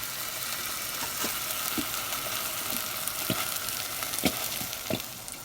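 A spoon scrapes and knocks in a pan as regular Heinz ketchup is stirred into homemade BBQ sauce over heat, soft sizzling underneath with a handful of sharp taps near the end.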